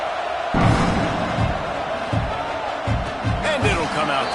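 A football stadium crowd during a late fourth-quarter kickoff, a steady broad roar with scattered thumps and rising cheers, heard under a commentator's play-by-play talk.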